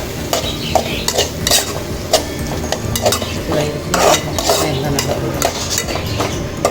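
Fried prawn curry being stirred in a pan, a steady sizzle with repeated scraping and clinking strokes of a utensil throughout, close and fairly loud.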